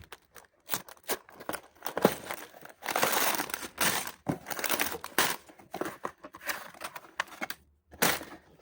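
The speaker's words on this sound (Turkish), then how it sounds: "Kutumuzu açıyoruz." Someone opens a LEGO Star Wars 75295 Millennium Falcon Microfighter box up close, with irregular bursts of crinkling and crumpling cardboard and plastic and short pauses between handling sounds, and no speech.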